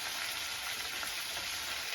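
Pieces of eel fish fry in hot oil in a pan, giving a steady, close, dense sizzle that stays constant throughout with no talk.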